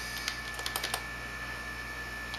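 Quick light keystrokes on a computer keyboard, a brief cluster of clicks over a steady electronic hum, then the typing stops.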